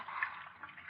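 Water trickling and lapping in a sewer within an old-time radio horror drama, a brief, soft, steady wash of liquid noise heard on its own at low volume.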